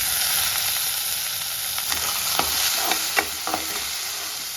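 Tomatoes sizzle steadily in a hot pan as a utensil stirs them, with a few scraping clinks against the pan.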